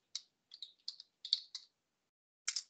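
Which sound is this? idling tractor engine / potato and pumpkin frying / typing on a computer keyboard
typing on a computer keyboard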